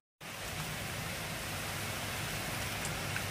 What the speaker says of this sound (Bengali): কি বৃষ্টি হচ্ছে, বাপরে।